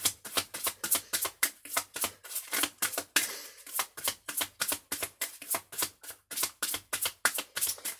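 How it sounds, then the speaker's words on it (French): Tarot cards being shuffled by hand, a quick run of crisp riffling bursts in a steady rhythm, close and fairly quiet, with no talking over them. "je bats les cartes"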